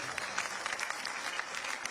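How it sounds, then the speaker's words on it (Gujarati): Audience applause at a Gujarati cultural warriors award ceremony: steady, dense clapping from a crowd, fairly soft and even throughout, with no voices over it. "ખૂબ તાળીઓ સાથે આ બધા યોદ્ધાઓના કાર્યને, અથાગ પ્રયત્નોને આપણે વધાવીએ."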